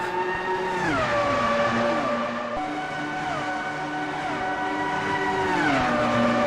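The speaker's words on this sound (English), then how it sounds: "I'm hearing an engine, if you can hear it as well." A race car engine in the Grand Prix Classics racing game whirs loudly and without a break, its pitch sliding down in a few stepped drops as though shifting gears, with no voices over it.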